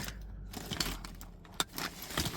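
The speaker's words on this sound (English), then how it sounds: "And let me just grab the key." A set of car keys jangles and clinks in short metallic rattles, close and fairly quiet, with faint background hum.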